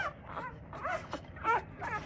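A small tri-colour XL American Bully puppy whimpers and whines in a few short, high-pitched cries, close by, with brief pauses between them.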